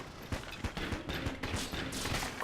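Rapid bursts of video-game gunfire from a combined gun in Enter the Gungeon, steady repeated shots with low thumps, moderately loud and continuous throughout.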